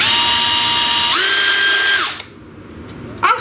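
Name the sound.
power drill drilling ventilation holes in a container lid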